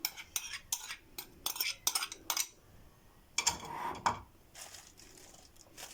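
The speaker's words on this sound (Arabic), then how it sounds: "بقلب المكونات دي كلها مع بعض." Chopped onion and fish marinade ingredients are stirred together in a bowl, giving a series of irregular scraping, clinking strokes of a utensil, fairly close, with short pauses in between and no talking.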